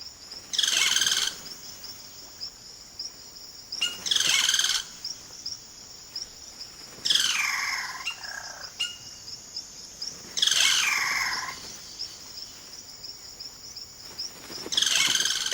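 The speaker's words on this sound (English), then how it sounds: "The cacique males now go about the important business of attracting a partner by puffing up their plumage and showing off their remarkable vocal range" Cacique birds in Amazonia calling during a courtship display, loud bursts of varied, liquid whistles and chatters repeating every few seconds over a constant high insect drone.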